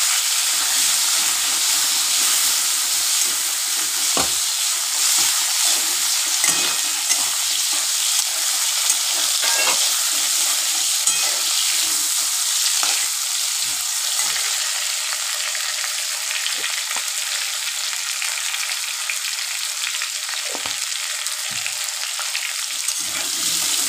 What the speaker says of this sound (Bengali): এবার আলুটা আমি ডুমো ডুমো করে আলুটা একটু ভেজে নিই